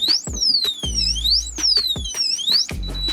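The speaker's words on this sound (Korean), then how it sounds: "에러 한번 뜨고 이렇게 면 경보 소리가 울리죠" A loud electronic error alarm on a home security safe wails in rising and falling sweeps, repeating steadily, with sharp beeps and clicks punctuating it throughout.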